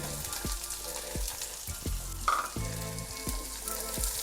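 Onions frying in a pan for a ridge gourd gravy, a soft steady sizzle with about seven evenly spaced scraping stirs, close and alone without talk.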